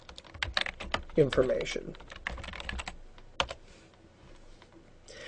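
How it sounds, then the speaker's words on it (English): Fingers tap a computer keyboard in quick, close clusters of keystrokes, with a brief spoken word over the typing and a short pause before the keys resume. "I'm going to go ahead and type contact"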